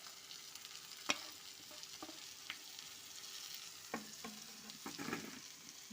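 Mashed boiled potato, rohu or catla fish, coriander and ground spices are stirred in a pan, a faint low sizzle broken by a few soft scrapes and knocks of the spoon.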